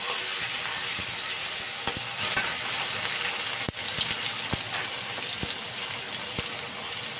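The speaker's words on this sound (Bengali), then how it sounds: "মানে আদার কাঁচা গন্ধ আর যাওয়া পর্যন্ত আমি একটু নাড়াচাড়া করে নিচ্ছি" Ginger, tomato and potato sizzle and fry in a pan while being stirred, with a steady bright hiss and occasional utensil clicks against the pan throughout.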